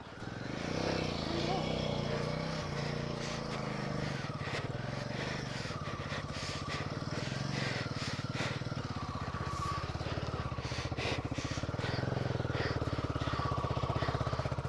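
Motorcycle engine revving and labouring while stuck in deep snow at the top of Shinku La Pass, a continuous close buzzing drone with rough pulses, under people talking.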